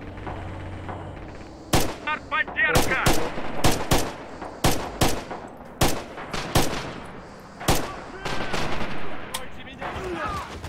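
Gunfire in the World War II shooter Red Orchestra 2: a string of sharp rifle and gun cracks at irregular intervals, some single shots and some quick bursts, loud and close over a low background rumble.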